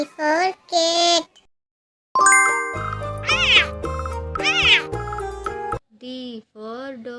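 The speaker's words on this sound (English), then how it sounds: "C for cat." A cat meows twice, then a bright musical jingle plays, then several more meows follow, all close and clear with no talking.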